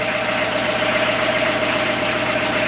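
A Westerbeke/Perkins diesel engine fitted in a Gehl 4610 skid steer idles with a steady, even low rumble and a faint whine, close and loud.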